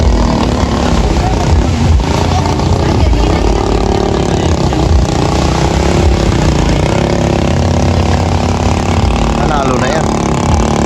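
Loud, steady roar of racing boat engines during a bangkarera boat race, continuous throughout with crowd voices and commentary mixed in.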